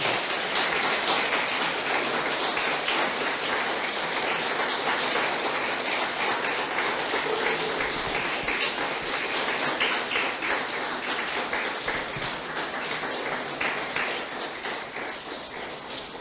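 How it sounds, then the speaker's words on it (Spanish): A church congregation claps continuously, a dense rattling patter of many hands that holds steady and fades slightly at the end, with no talk over it. "Dale un aplauso al Señor, hermano."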